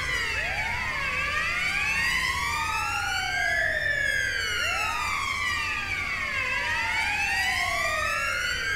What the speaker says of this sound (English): where's the other siren coming from?